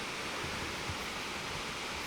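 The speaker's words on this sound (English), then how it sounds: "Look at this waterfall." Constant broadband rushing of a waterfall, a steady hiss of falling water that fills the scene, without speech.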